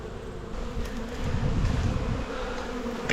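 Dense honeybee buzzing at a hive entrance while the bees are packed down for winter, a steady close drone with individual bees passing near, no talk.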